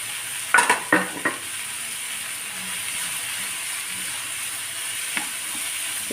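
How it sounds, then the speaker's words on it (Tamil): Onion and tomato masala with chili powder, garam masala and turmeric sautéing in a pan: a steady sizzle throughout, with a few scraping stirs of a spoon near the start and another brief scrape later. "இது கொஞ்சம் நல்லா வதக்கிடுவோம்."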